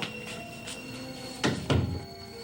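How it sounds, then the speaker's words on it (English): An interior door closes on a drama set, giving two muffled thuds in quick succession against a steady background hum, with no one talking. "Come in, close the door."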